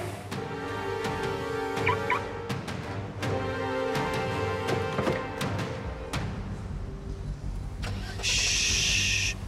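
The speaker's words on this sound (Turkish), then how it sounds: "Çalışır arabayı." Car engine cranking with repeated rhythmic starter clicks and turning over before catching and settling into a low idle, loud and close, with a brief high whine near the end.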